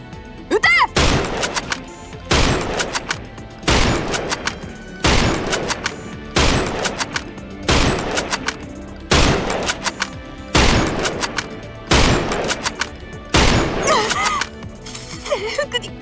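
Synchronized rifle volleys ring out in a video game, about ten loud cracks evenly spaced roughly a second and a half apart, each followed by a brief echoing tail.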